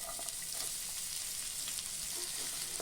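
Onion pieces and cumin frying in oil in a pan, a continuous bright crackling sizzle, close and even throughout the short stretch with no voices.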